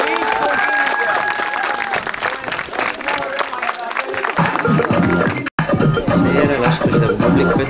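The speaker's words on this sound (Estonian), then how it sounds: "Nii et tormiline aplaus!" Loud applause and cheering from a spectators' crowd at a Mother's Day stroller rally, with clapping and voices mixed, a short cut midway, and busy crowd noise continuing after.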